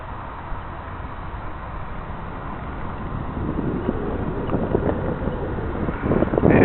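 Steady wind buffeting an outdoor microphone in about 10 mph winds while an RC plane flies, a continuous low rumbling roar that grows stronger and gustier toward the end, no voices.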